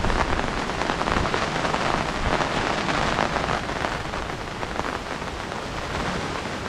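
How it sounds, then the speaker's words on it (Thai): Steady, heavy rain pours down throughout at a campsite in Khao Yai National Park, a dense continuous hiss of drops hitting surfaces with no voices. "มาฝนก็ตกเลยนะครับ"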